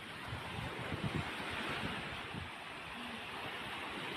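Sea waves wash in a soft, continuous broadband rush, mixed with low wind buffeting on the microphone and no talking.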